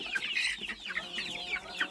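Several chicks cluck and chatter continuously close by, a busy overlapping flock sound with no pauses.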